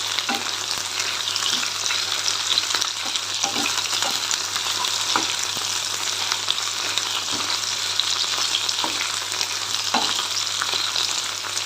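Steady crackling sizzle of okra frying in hot oil, continuous and close, with occasional sharper pops and faint stirring.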